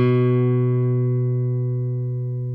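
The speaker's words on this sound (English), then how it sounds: "when a single string of a guitar is plucked" A single guitar string plucked once, ringing with a clear rich tone and bright overtones that slowly decay over a couple of seconds, alone with no other sound.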